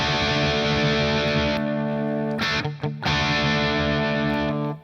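Electric guitar distorted through an 808 overdrive plugin, thick sustained gritty chords held close and loud, with a brief choppy break midway before the chord rings on and cuts off.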